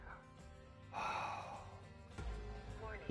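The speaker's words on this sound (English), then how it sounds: "You hear how my guy's breathing?" A character in Hardspace: Shipbreaker breathes heavily, with a long strained inhale, a pause, then another deep breath, faint and close.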